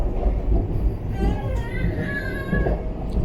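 The Vande Bharat Express, train 20634, runs between Trivandrum and Shoranur, a steady rumbling roll with a continuous low drone and a rising whine, heard from inside the carriage.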